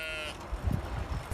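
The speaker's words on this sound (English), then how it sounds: "in meadows shared with sheep" Sheep bleat in a meadow, several short, low bleats in quick succession over a broad outdoor rumble, fairly close.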